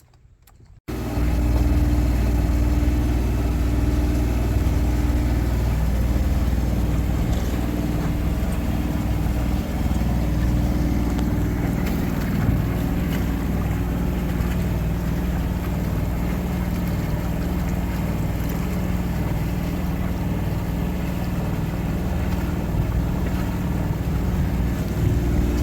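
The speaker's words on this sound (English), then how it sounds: "fire up the engine and we're gonna roll" A boat engine on a calm day near Desolation Sound in British Columbia catches abruptly after a brief quiet moment, then runs steadily and loudly at close range for the rest of the stretch, with no talking.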